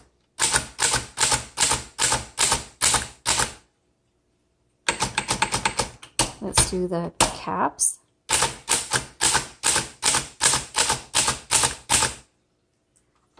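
A 1926 Underwood Four Bank manual typewriter clacks in quick bursts of keystrokes, sharp and close, separated by pauses, with a person talking briefly midway.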